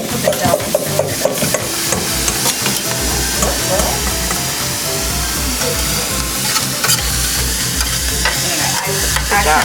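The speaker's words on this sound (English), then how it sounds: "I'm going to stir it until the yolks are all broken up" A utensil stirs cracked eggs in a bowl with brisk, repeated scraping and clattering up close, a busy rhythmic churning that runs continuously with no talk.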